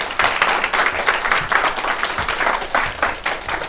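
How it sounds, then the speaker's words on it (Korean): A lecture audience claps continuously and loudly to welcome a speaker, the dense applause rolling steadily without pause. "큰 박수로 환영해 주시기 바랍니다"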